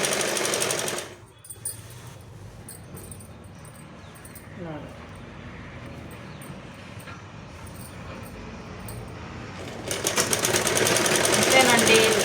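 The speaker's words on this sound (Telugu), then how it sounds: "ఒరిజినల్ పైన లైనింగ్ మొత్తం ఇలా పట్టుకొని అయితే మనం స్టిచ్చింగ్ వేసుకోవాలి" Sewing machine stitching a lehenga's lining onto the original fabric, a steady close mechanical whir running under and between talk, with a louder burst near the end.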